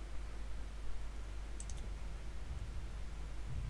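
Soft, quick mouse clicks in a Nosgoth game menu, a small cluster of light taps close by over a steady low hum.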